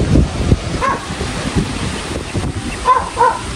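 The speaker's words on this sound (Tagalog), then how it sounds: "lakas ng hangin" Strong gusts of wind buffet the microphone with a low, rumbling roar that swells and fades throughout, outdoors among saba banana plants.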